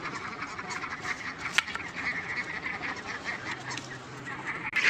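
Ducks and chickens crowd together at feeding time in a village yard, keeping up a steady, busy clamor of honks and quacks for the whole stretch, with one sharper squawk standing out.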